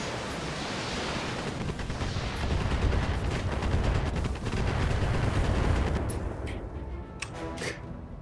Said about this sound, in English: A lot of LRMs.